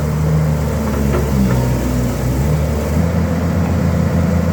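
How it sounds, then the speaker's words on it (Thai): A Kobelco SK200-6 excavator's six-cylinder direct-injection Mitsubishi engine runs steadily, a loud continuous low diesel drone with no breaks. "เครื่องยนต์มิตซูบิชินะครับสำหรับรุ่นนี้"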